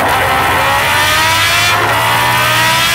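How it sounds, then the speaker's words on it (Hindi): A Bajaj-style N160 motorbike accelerates hard at high speed on an open road, its engine note loud and sustained with steady rising whine and rushing wind noise throughout. "अब आपको दिखाते हैं हाई स्पीड इसका, इस बाइक का N160 का हाई स्पीड"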